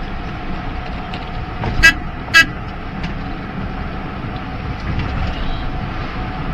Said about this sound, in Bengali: এবার দেখুন এই হর্ন দিলাম